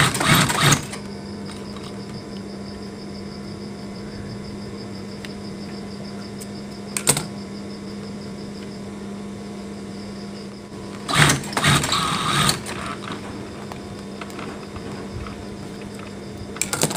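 Sewing machine stitching closed a hole in a baby blanket, a steady whirring run of fast needle strokes, close by, interrupted by short loud handling clatters near the start and middle and toward the end.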